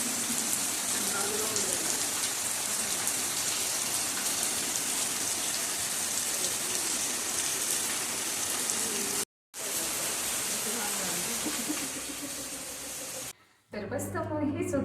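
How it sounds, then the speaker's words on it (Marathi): Heavy, continuous monsoon rain pours down, a dense and even roar of drops on surfaces that is briefly cut off twice near the end. "पावसाच्या काही क्लिपिंग मी ॲड करेल की कसा पाऊस होता"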